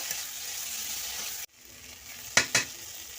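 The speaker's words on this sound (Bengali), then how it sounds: "আগে থেকে সিদ্ধ করে রাখা আলু আমি ছোটো ছোটো করে কেটে নিয়েছি ওর মধ্যে দিয়ে দেবো ভালো করে কষিয়ে নেব" Boiled, diced potatoes sautéing in spiced masala and oil make a soft, low sizzle that cuts off abruptly, then resumes faintly before two quick, sharp scrapes of stirring.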